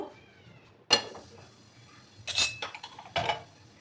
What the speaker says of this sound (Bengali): একটা কুকার আমি এবার বসিয়ে দেবো।